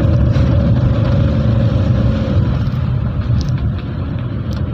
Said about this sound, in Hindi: गाड़ी काफ़ी ज़ोर ले रही है ऊपर जाने में।